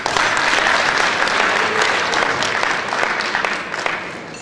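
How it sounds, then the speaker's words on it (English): Wedding guests applaud together, a dense, steady burst of many hands clapping that holds throughout and tapers slightly near the end. "I would like us to give a round of applause again."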